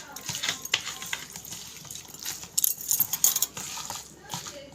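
Water is poured into food while cooking in a home kitchen, giving soft splashes and a few light clinks at close range, with faint voices in the background.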